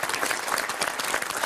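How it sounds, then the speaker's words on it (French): A studio audience on a French TV word game show bursts into dense, steady applause, loud and close, a continuous wash of many hands clapping with no talk over it. "Applaudissements."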